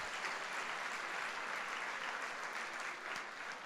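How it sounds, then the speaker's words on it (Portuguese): Sustained applause from a church congregation during a Sunday worship service, a dense, steady wash of many hands clapping at once for the whole stretch, fairly distant and even in level. "dá um aplauso aí a Jesus"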